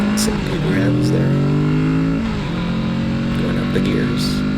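Close, loud engine of a 2024 Kawasaki Z650RS motorcycle accelerating through its gears on a city street, the pitch rising, dropping briefly at each shift, then climbing again.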